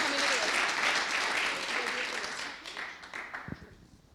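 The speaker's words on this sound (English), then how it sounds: "Let's give Sunny a warm round of applause." A crowd at a tech event in Montreal's Notman House claps warmly for a speaker. The applause is loud at first and thins out over a few seconds into scattered claps.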